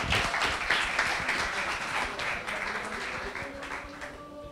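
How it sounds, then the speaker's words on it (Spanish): An audience applauds at a Halo 5 Xbox fan event. The clapping is soft and a little distant, a steady wash that fades gradually over a few seconds within a noisy hall. "Bueno, un aplauso, ¿no?, para los chicos."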